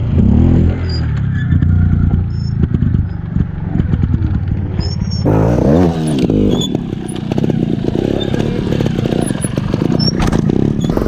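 A 2018 Scorpa trials motorcycle revs and clatters up close, its engine blipping in short bursts as the bike hops from the front tire to the back tire, with chain and metal rattles between throttle pulses.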